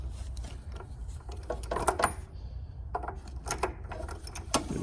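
A socket wrench tightens the oil drain plug on a Fiat 500 Abarth during an oil change, giving quick bursts of ratcheting clicks and metallic rattles in short irregular runs, fairly close, with no talk.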